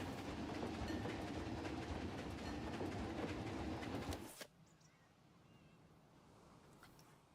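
Train ride rolling along its track in the Planet Coaster 2 theme park game, a steady rumbling clatter of wheels and cars held loud and close for about four seconds, then cutting off abruptly to a faint quiet hum.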